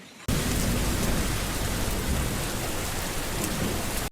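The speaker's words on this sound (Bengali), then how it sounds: "দেখো কত বড় একটা ঝড় উঠেছে, ভীষণ জোরে জোরে হাওয়া দিচ্ছে" A strong storm with heavy wind and rain, heard from a doorway as a steady, loud broadband roar that begins abruptly and holds for about four seconds without any voices.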